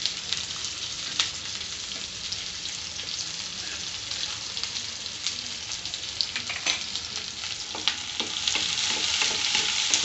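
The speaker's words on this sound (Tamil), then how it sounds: "வெங்காயம் ஒரு 4 வெங்காயம், பெரிய வெங்காயம் நான் எடுத்து வச்சுருக்கேன். அதையும் வதக்கிக்கணும்." Four large onions cut into cubes sauté in a hot pan, a dense, continuous sizzle with scraping stirs and crackles that grows slightly louder toward the end.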